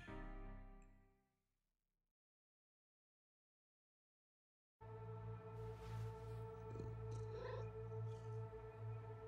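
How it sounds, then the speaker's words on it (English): A cat purrs in the video game Stray, a steady low rumbling drone beneath a soft in-game ambient hum, close and continuous after a moment of silence, with faint mewing tones on top. "There's purring. There's purring noises."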